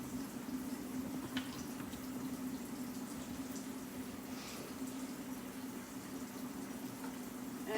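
Water running from a kitchen tap at home during breakfast cooking, a steady faint splashing rush that holds evenly throughout with no talk over it.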